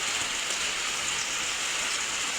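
Heavy rain pours steadily outdoors as a dense, even hiss with no break, fairly soft and unaccompanied by voices.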